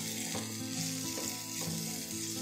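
Phodni tempering for batata vada, whole spices crackling in hot oil in a pan, a steady close sizzle with a few spitting pops and no voices.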